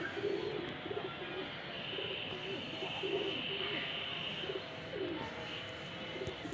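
A breeder pigeon coos softly in a repeated low rhythm, fairly faint against steady background noise.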